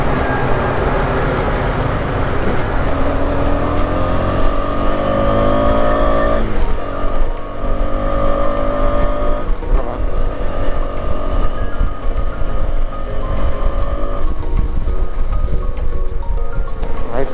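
A motorbike engine revs hard but fails to pick up speed, a sign of a bike needing service. The drone stays steady and close, with rising and falling tones and no talking.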